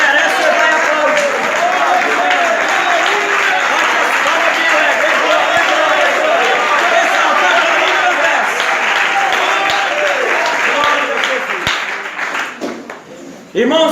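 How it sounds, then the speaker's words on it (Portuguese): Church congregation applauding steadily and loudly as one dense wash of clapping, sustained for about twelve seconds before thinning out and fading at the end. "Se Jesus merece, você vai aplaudir."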